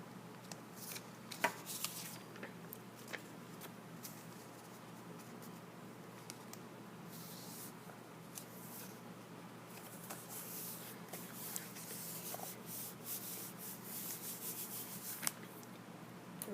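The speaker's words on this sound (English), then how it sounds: "So I'm going to glue this in." Paper being glued into a lab notebook, with a steady close rubbing and smoothing of a cut-off printed procedure sheet, soft scratchy strokes and small taps, no talking.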